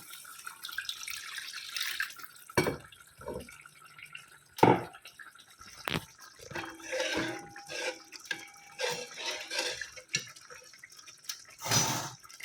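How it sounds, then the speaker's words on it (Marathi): Hot water is poured into an already heated kadai set on for egg curry, making close, bursty splashing and sputtering with gurgling trickles in between, and no talk. "इकडे अंडा करीसाठी ठेवलेली कढई गरम झाली आहे. थोडंसं गरम पाणी घालू."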